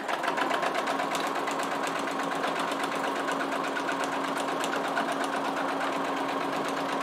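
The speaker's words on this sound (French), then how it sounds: "je vais faire une couture au point droit à 1 cm du bord ici" Domestic sewing machine running a straight stitch seam about 1 cm from the fabric edge, a steady close whirring hum with rapid needle clatter throughout, no talking.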